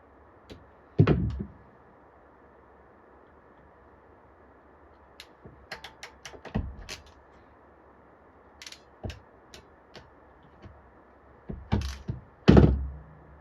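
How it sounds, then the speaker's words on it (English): A wire connector crimped several times with hand pliers during an arcade monitor repair gives scattered dull thunks and clicks, heavier at the start and near the end, with quiet gaps between squeezes. "I'm having to crimp it multiple times here"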